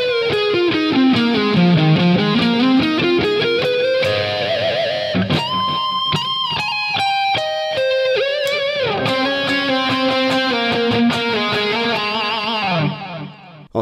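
Distorted electric guitar plays a solo, with sliding bends and sustained wailing notes that carry loud and steady from start to finish, alone with no talk.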